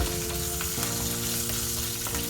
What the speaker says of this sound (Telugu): ఇప్పుడు కరివేపాకు వేసుకొని ఒక్క నిమిషం ఇలా అన్నీ వేగిన తర్వాత తాలింపు